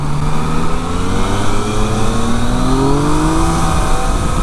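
Yamaha MT-09 Tracer 900 motorcycle accelerating, its engine loud and close with the pitch climbing steadily through several seconds of hard throttle.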